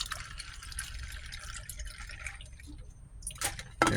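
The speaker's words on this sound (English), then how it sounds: "I'm going to go ahead and pour the rest of that can in there." The last of a can of green tea is poured into a paper cup, a close continuous trickling splash that thins toward the end, followed by a brief knock.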